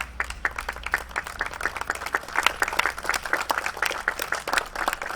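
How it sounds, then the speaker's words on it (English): Applause from an audience at a gathering of a house's Friends board, a steady mid-level patter of many hands clapping throughout with no voices over it. "If you could all just stand up so I can applaud you all."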